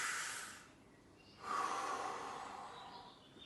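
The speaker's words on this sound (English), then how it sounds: "So a deep breath." A slow, deep breath drawn in and let out during a relaxed lower-back release stretch at home, close and soft: a breathy hiss of air, a pause, then a longer exhale trailing off.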